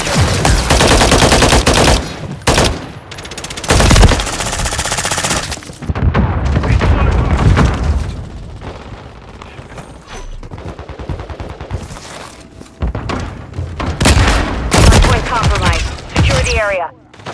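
Call of Duty gunfire: loud, close bursts of rapid automatic shots with booming impacts, broken by short pauses and brief voice callouts, over seventeen seconds of battle.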